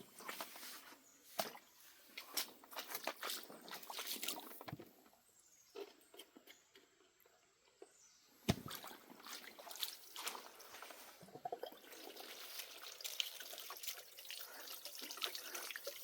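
Water rushing and splashing through a gold prospecting sluice with riffles, a steady wash broken by surges and drips, with a quieter stretch in the middle before the flow picks up again.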